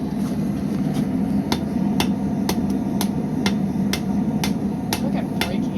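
Hot metal hammered at a blacksmith forge, a dozen sharp ringing strikes in a steady, slightly uneven rhythm, loud and close over a constant low roar from the forge.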